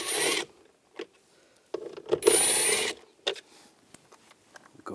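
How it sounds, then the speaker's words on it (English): A socket tool working screws out of a car interior panel on a 2010-2017 Chevrolet Equinox, bursts of ratcheting and scraping separated by short quiet gaps, close and mid-loud. "Take these screws out."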